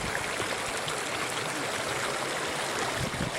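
Water flows over the terraces at Pamukkale, a steady, even rushing like a stream, close and continuous, with no voices.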